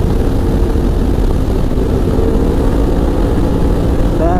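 An ATV engine holds a loud, steady high-revving drone at around 7,000 RPM during a top-speed run, with a constant buzzing roar and wind rush and no talking.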